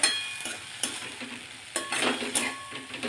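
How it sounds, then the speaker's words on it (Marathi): Radish pods are stirred through a sizzling spiced tempering in a pan, with close, crackling frying and several distinct scrapes and stirs spread across the short stretch, and no voices. "व्यवस्थित मिक्स करून घ्यायचं या फोडणीमध्ये"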